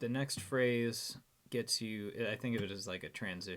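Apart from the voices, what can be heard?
No everyday noise stands out behind the speech.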